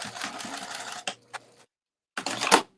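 A sewing machine stitches fabric for a clutch wallet, running in a steady buzzing burst for about a second, then two short stabs, a pause, and another brief run, close and alone.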